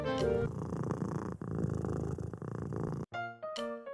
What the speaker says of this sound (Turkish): Sevimli bir kediyi kaşımaya başladığınızda işte böyle mırlamaya başlar.